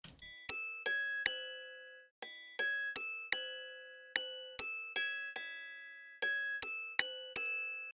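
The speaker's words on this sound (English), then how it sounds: "And what Blancpain calls the Blancpain melody." A Blancpain chiming watch plays its melody in small, clear bell tones, about eighteen bright struck notes in short phrased groups, each ringing briefly before fading into near silence, delicate and close.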